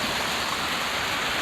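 Violent mountain stream of melted snow water rushing steadily in a constant loud roar, close by and unbroken from start to finish.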